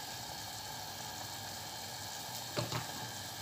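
Broccoli and mushrooms cook in a pan with a faint, steady sizzle, and a couple of brief scraping stir sounds come near the end.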